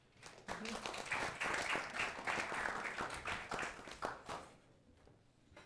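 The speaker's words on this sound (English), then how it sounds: "And so please give them a round of applause." An audience at a panel event with Estonia's defence minister breaks into applause, a fairly faint but sustained patter of many hands that swells and then fades out toward the end.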